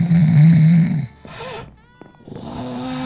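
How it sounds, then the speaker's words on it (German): A character snoring loudly in the video game Minecraft, with heavy low rumbling snores for about a second, then a pause and a softer, thinner snore returning near the end. "Der ist richtig laut am Schnarchen"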